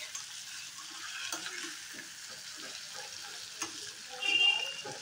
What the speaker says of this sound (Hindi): अच्छे से मिक्स कर लेते हैं मसालों को।